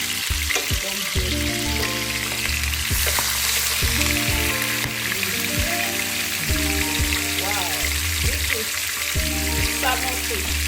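Salmon pan-fries with a constant crackling sizzle, close and busy, while a person talks over it throughout.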